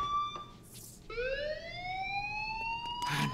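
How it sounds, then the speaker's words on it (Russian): An electronic fire alarm rings in the video game Life Is Strange, a steady rising tonal wail at moderate level with brief noisy bursts around it. "Do you hear that fire alarm?"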